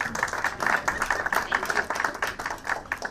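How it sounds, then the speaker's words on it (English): A short, light round of audience clapping follows the introduction of a professor at a law school conference event, a steady patter of hands at moderate distance with some faint voices mixed in. "A big clap."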